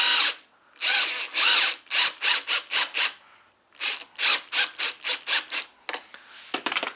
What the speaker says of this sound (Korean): 일단 볼트를 풉니다